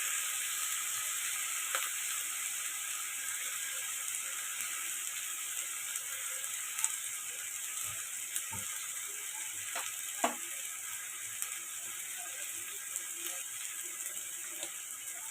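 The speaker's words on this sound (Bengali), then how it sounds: "এখন কষাতে থাকবো।" Potol (pointed gourd) sautéing with ground spice paste, turmeric and salt in a pan gives a steady close sizzle, with scattered clicks and scrapes from stirring and no talk.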